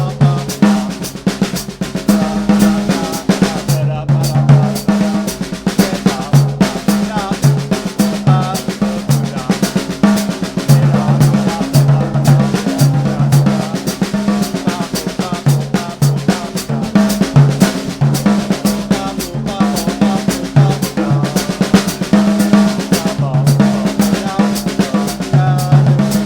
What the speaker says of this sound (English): What if I did the same thing but allowed my hands to move around the tom-toms, making more melodic ideas?